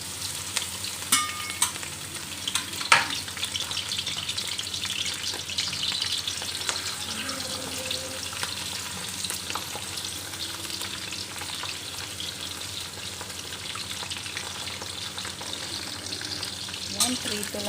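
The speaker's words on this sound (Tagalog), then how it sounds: "Ayan na yung ating mantika, mainit na siya. So, ilalagay na natin yung ating hipon. Piprito natin yung hipon." Steady crackling sizzle of prawns frying in hot oil, with occasional pops and stirring clatter throughout.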